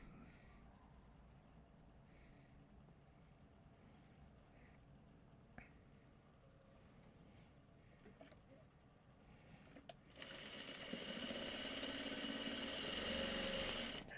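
A sewing machine stitches a quilt block, starting only after about ten seconds of quiet room sound as a steady, fairly loud mechanical whirring that runs to the end.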